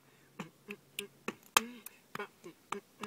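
Close, dry body percussion repeats a quick cycle of paired finger snaps and a single hand clap, each hit crisp and evenly spaced against a quiet background.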